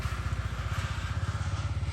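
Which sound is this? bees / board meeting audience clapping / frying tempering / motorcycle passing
motorcycle passing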